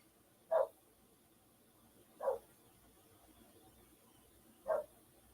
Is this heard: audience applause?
no